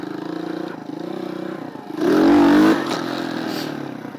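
A motorcycle engine hums steadily and then revs hard for a short burst while accelerating, falling back to a loud running drone; no speech.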